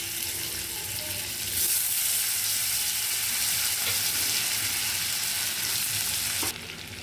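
Chopped onion and tomato hit hot oil in a pan, starting with a loud, close, bright sizzle that holds steady for several seconds before easing slightly near the end, with no voices.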